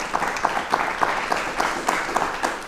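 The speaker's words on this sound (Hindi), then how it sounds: "प्लीज एक बार तालियां सर के लिए जोरदार हो जाए।" Studio audience applause on a DD Rajasthan talk show in honor of Prof. Ramesh K. Arora, with many hands clapping and a few sharper, louder claps standing out rhythmically through the steady patter.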